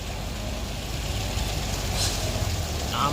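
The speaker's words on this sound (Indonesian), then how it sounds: "Nah, di sana ada truk Fuso yang turun." A Fuso truck coming down a rainy-season mountain road gives a low, steady engine rumble at moderate level, with a brief hiss near the end.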